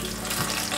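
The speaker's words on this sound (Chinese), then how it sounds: "鲍鱼菇都裹上面糊和地瓜粉了，放入锅内炸。" Abalone mushrooms coated in batter and sweet potato starch deep-frying in hot oil in a wok, a dense, loud, close crackling sizzle throughout.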